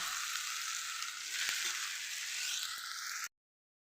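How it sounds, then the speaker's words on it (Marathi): Green chillies and turmeric sautéing in a pan give a steady, close hiss of frying with a couple of faint stirring taps, then the sound cuts off abruptly near the end. "आपण छान परतून घेणार यामध्ये मिरची हिरवी मिरची हळद"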